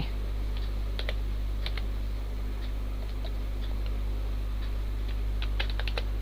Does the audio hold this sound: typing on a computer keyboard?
yes